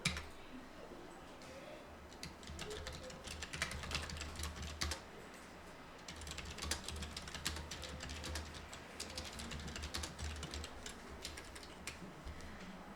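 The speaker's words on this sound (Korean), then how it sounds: "나머지는 그냥 간단하게 내용 타이핑하는 거라 어렵지 않습니다" Steady, faint typing on a computer keyboard at an office desk, keys clicking in quick irregular runs for the whole stretch with a low hum underneath.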